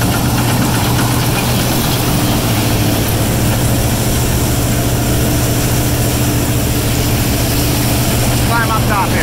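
An old Massey Ferguson combine engine runs loud and steady nearby, a constant low rumbling drone with mechanical clatter throughout.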